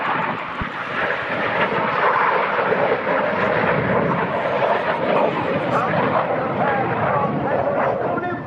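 Red Arrows display jets at the RAF Cosford Airshow pull hard turns, making a loud, sustained rushing roar that swells and fades, with a commentator talking over it.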